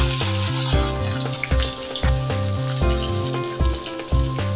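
Chopped onion hits a hot pan with mustard seeds and cumin for Maharashtrian bharli vangi, giving a steady, close sizzle of frying that continues throughout over a low tonal background.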